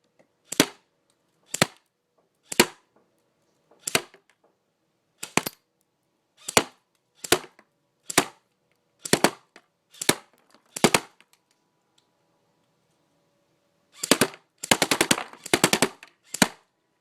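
Bursts of fire from a JG Tactical RIS AK47 airsoft AEG at a shooting test range, single and short bursts at steady intervals, ending in a rapid automatic string, loud and close with no talk.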